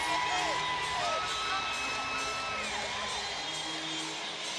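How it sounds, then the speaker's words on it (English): Arena crowd at an Oklahoma at Arkansas gymnastics meet cheering and whooping, with shouted calls rising over a dense, steady roar that stays loud throughout. "you can see a few in the crowd calling for a 10"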